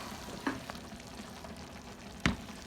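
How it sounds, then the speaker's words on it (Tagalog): Vegetables with squash flowers stir fry in lamb oil, giving a quiet, continuous sizzle broken by two sharp clinks of a utensil against the pan. "Stir fry lang natin. Tapos nilagyan natin ng squash flowers."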